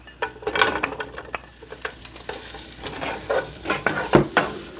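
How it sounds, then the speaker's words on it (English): Onions dropped into a pan of olive oil over medium heat, hissing and crackling while a utensil scrapes and taps them around in uneven bursts, near and without talk. "I'm going to add my onions."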